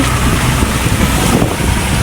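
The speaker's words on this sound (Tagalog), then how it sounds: "Malakas na hangin." Strong wind buffets a fishing boat at sea on the Pacific Ocean, a loud, steady roaring rush with heavy microphone wind noise and no pauses.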